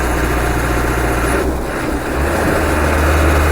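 Car engine pulling in fourth gear at about 60 on a road test, a steady, fairly loud drone with a slight dip midway, no talking.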